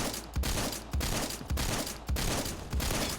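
Shotgun blasts in the Roblox game Phantom Forces fire about six times in a steady rhythm, each shot loud and close with a short decaying tail, heard alone.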